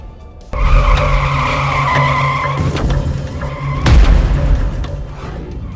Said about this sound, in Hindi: रायगढ़ में एक तेज रफ्तार बेकाबू कार ने सड़क किनारे खड़ी हुई महिला और बाइक सवार 2 लोगों को जोरदार टक्कर मार दी